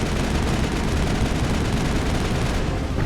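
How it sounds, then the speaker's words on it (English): Sustained assault rifle fire in Mass Effect, a dense unbroken stream of rapid shots with crackling impacts, loud and close throughout. "See, I like this assault rifle better."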